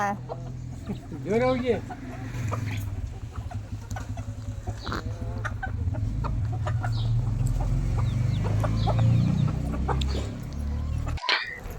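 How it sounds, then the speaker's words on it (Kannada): Hens being fed rice cluck and a rooster calls now and then over a busy outdoor background, with people talking nearby. "ಕೋಲ್ ತಗೊಂಡು ಅಕ್ಕಿ ಹಾಕಿದ್ರೆ ಕೋಳಿ ಬರ್ತವ"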